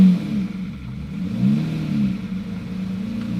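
A Lamborghini built as a Fast & Furious car, needing a tune-up, engine revving and dropping as it shifts through low gears, a close mid-pitched drone rising and falling several times without speech.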